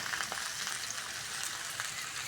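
Potatoes and onions fry in oil, giving a quiet, even sizzle with light stirring, brief and nearby, with no voices.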